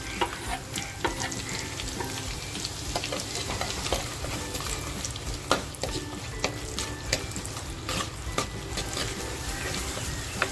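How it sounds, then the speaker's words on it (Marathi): Chopped onion with whole spices sizzles in a pan over a low flame for a mutton curry, a steady close frying hiss broken by repeated scraping and clinks of a stirring spoon. "त्याच्यानंतर कांदा जो कापून घेतलाय तो कांदा टाकते"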